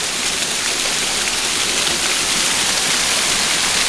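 Water pours over the top of a waterfall in a dense, continuous, loud roar heard up close, with no talking.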